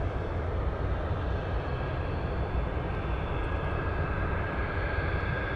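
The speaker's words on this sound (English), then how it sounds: "right now, back taxiing on the runway" An airliner back taxiing on a runway at Anchorage airport gives off a steady, distant jet-engine roar that holds even and unbroken throughout.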